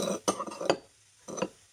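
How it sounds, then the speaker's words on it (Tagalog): Sweet and sour sauce of soy sauce, vinegar and sugar stirred in a pan, giving soft scraping and clinking in three short bursts separated by a quiet gap. "Haluin lang natin siya."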